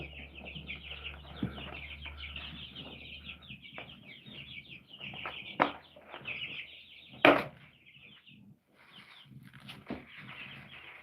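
Backyard hens cluck and mutter close by in a steady, uneven chatter, with a few louder squawks and a brief flurry of wings, no talking over them.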